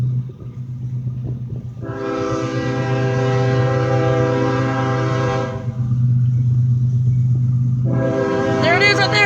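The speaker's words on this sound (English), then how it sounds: "We have 2 trains going through." Two trains pass at a road crossing in Smyrna, Tennessee, one blasting a long, loud, steady horn chord near the listener, then a second horn blast starting after a short pause over continuous low rail rumble.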